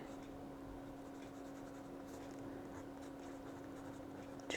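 Fountain pen nib scratching ink onto paper, a TWSBI Diamond 580 with a medium nib, giving a soft continuous writing rustle under a steady background hum, with a brief louder scratch at the end.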